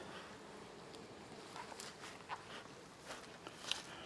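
Honeybees buzz around an active beehive in a bee yard. The hum is faint and steady, with a few soft rustles and footstep-like taps close by.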